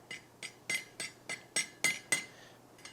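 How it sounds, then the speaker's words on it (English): A hot rivet being set by hammer on a hand-forged hog catcher, about nine sharp, ringing metallic blows in a quick, slightly uneven rhythm, fairly faint and isolated, with no talking. "one hot rivet going in"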